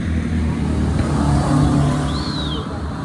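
A new Honda Civic Type R revs hard while leaving a car meet, a loud rising engine roar up close with a brief high whine near the end.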